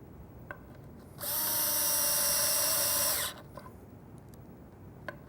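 A power drill drives screws into a wooden cabinet face frame, one steady high-pitched whirring burst lasting about two seconds, close and loud against a quiet room.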